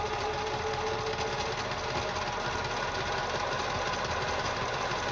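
A Kenmore 158.10500 sewing machine stitches a zigzag buttonhole, running with a close, steady rapid mechanical clatter and hum the whole time, with no talk over it.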